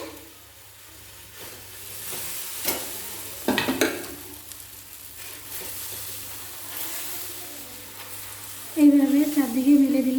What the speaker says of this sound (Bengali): এরপর পালং শাকের ব্যাটার দিয়ে দেব। সরু চাকরির মতন প্রথমে ভেজে নেব।